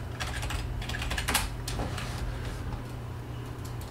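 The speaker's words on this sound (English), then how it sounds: "If I type my name," Typing on a computer keyboard, a steady run of soft, close key clicks with a few louder taps, over a constant low hum and no talking.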